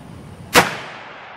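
A single sharp rifle shot fired at a target on a shooting range, loud and close, followed by a short fading echo over quiet background.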